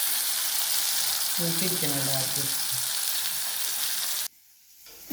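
Fish sizzles and crackles in hot oil in a pan, a loud, constant frying hiss under a brief spoken comment, ending abruptly with a quieter stretch.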